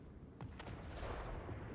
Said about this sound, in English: Cannons. There we go. We're getting some shots off on him.